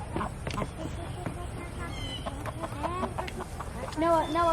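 Chickens on a small farmstead cluck repeatedly, with rising and falling calls clustered toward the end, close by over background noise.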